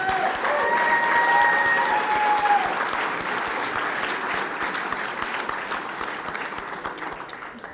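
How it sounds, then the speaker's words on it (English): Applause fills the hall at a lacrosse Hall of Fame induction ceremony: many people clap steadily, with a few voices over the start, then the sound thins gradually as it fades. "One final round of applause for Paul Rabel."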